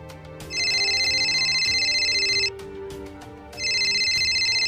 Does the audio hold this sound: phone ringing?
yes